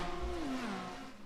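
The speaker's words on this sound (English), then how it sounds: "You can just hear the engines blazing out." A race car engine howls at Fuji Speedway, a single pitch sweeping downward briefly as the car passes by at moderate distance.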